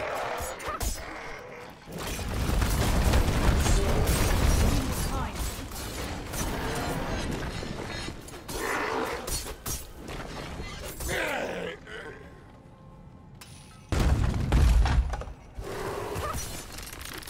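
Explosions and combat effects in the video game Diablo IV, played as a hardcore Rogue, come as loud rumbling, crashing blasts in dense clusters with brief lulls, mixed with clanking mechanical hits and occasional game voices.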